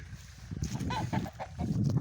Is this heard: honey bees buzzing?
no